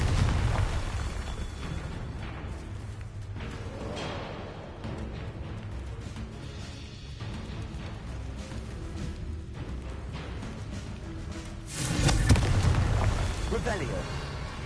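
Confringo blasting spells in Hogwarts Legacy gameplay, booming magical explosions over a rumbling backdrop, with a sharper, louder blast near the end, while a voice speaks over the action.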